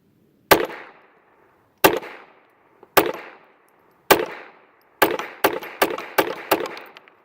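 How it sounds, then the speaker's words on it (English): Nine gunshots from a semi-automatic pistol firing CCI quiet ammunition: four sharp, widely spaced cracks, then five quicker shots in a tight rhythm, each a short snappy report with brief decay, close and alone. "9 shots on the same target to see if it'll work with CCI"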